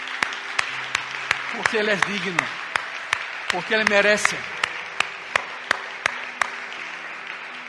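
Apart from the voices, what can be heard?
church congregation applause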